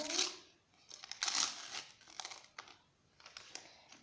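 A paper surprise packet is torn open by hand, giving close, irregular bursts of crinkling and rustling paper with quiet gaps between them.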